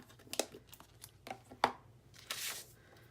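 Scissors snipping through stamped cardstock in a quiet craft setting, a few short crisp cuts and papery rustles spaced irregularly, close and fairly soft.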